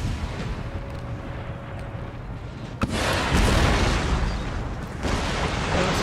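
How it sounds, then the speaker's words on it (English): Artillery fire in the video game Empire: Total War, a muffled rumbling battlefield that breaks into a sudden loud cannon boom followed by sustained heavy rolling blasts and another strong report near the end. "Every single gun artillery piece is going to open up on their artillery."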